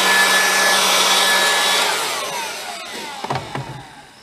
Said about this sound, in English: lightweight blower